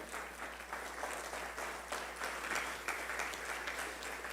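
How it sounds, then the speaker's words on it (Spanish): A church congregation claps together in a sustained, fairly faint burst of applause that continues steadily throughout, with nobody speaking over it. "Dale un fuerte aplauso al Señor Jesús."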